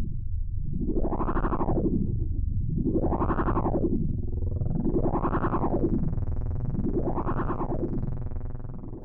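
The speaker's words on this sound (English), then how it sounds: "Now our LFO is manipulating the delay time, resulting in an ever-changing playback of echoes." In VCV Rack, a modular synth drone passes through a delay whose time is swept by an LFO. Repeating echoes rise and fall in pitch in slow, regular waves, dense and loud throughout, with a layered smear of repeats building partway through.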